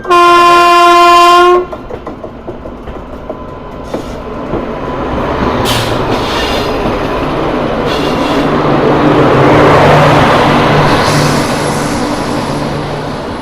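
Oncoming locomotive with wagons passing a moving train, opening with a loud horn blast, then a rising rush and rumble of rail cars rolling past close by, with faint clatter.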